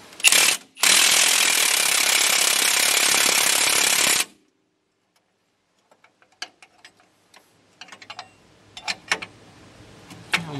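Rapid clicking of a ratchet wrench working on a Dodge Ram Van's suspension, with a loud burst at the start, then scattered close clicks and taps after a pause.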